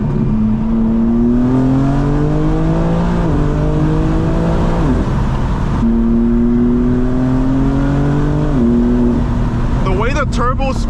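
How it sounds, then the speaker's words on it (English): A BMW M4 G82 engine with catless downpipes and air intakes revs hard through rising and falling gear pulls, a loud steady drone with a turbo whine riding on top throughout. "The way the turbo spools, when you're already up in the RPMs, it spools instantly and you could hear it."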